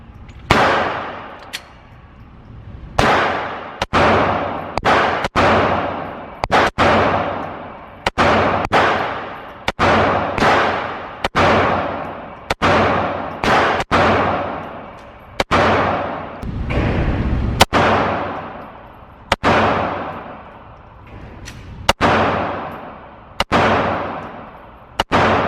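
Pistol shots from a Glock Gen 5 firing Speer Lawman 124 grain 9mm rounds, about twenty loud sharp reports at an uneven, fairly quick pace with short ringing decays, no talk.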